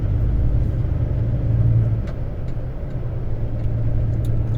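A truck engine rumbles steadily from inside the cab, its low drone shifting in pitch as the driver changes gear, with faint clicks and rattles over the hum.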